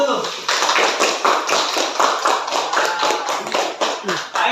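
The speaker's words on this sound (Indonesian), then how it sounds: "Tepuk tangan dulu." A classroom group claps hands together in an uneven, lively burst of sharp, close claps that continues steadily, with a few voices mixed in.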